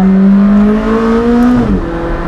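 A sports car accelerates hard in sport mode, its engine note climbing steadily in pitch as a loud, close, smooth rising drone, then easing off and dropping at the end.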